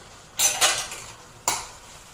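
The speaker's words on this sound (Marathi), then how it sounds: "तर आता आपण याच्यावरती झाकण काढतोय आणि आपली भाजी बघतो किती शिजत आहे" Lid lifted off a pot of cooking vegetables, with a pair of close metallic clatters followed by a second sharp clink, heard alone without speech.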